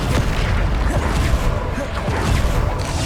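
Bombarda spell explosions in Hogwarts Legacy, deep booming blasts and crashing impacts in a loud continuous stretch of combat noise, with spoken voices partly buried in the mix.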